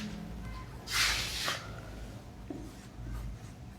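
Marker or chalk scratches across a classroom board while an equation is written, one clear rubbing stroke followed by a few fainter taps and scrapes over a quiet room.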